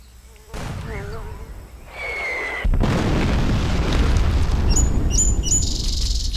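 Cannon fire in the strategy video game Greed Corp: a synthetic whistle and whirring lead into a loud sustained blast that rumbles on, followed by a few short high electronic beeps near the end.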